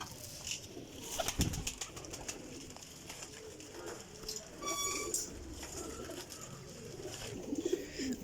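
Teddy pigeons coo in a low, steady murmur beneath clattering handling noises, sharp taps and a brief flutter of wings, with no speech.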